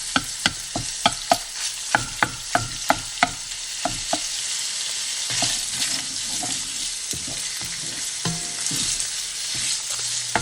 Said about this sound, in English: got the sausage in there, mixing it up. Just want to get a good browning on it